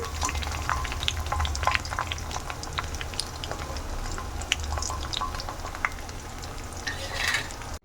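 Soya mini chunks deep-fry in hot oil with a dense, continuous sizzle and crackle, steady and close, broken by occasional sharp pops and stirring scrapes.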